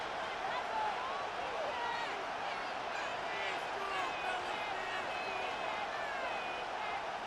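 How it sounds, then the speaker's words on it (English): Faint, steady wash of crowd roar in an Arrowhead stadium in the video game Madden 26, with commentary speech over it. "The Arrowhead crowd in full roar."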